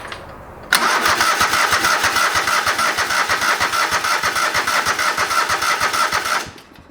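An old lawn mower engine cranks over steadily for about six seconds, a loud rapid rhythmic chugging that stops abruptly without catching.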